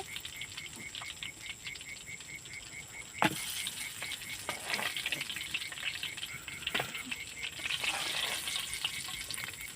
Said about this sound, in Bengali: আমি এইভাবে সব ভেজে নেব লাল লাল করে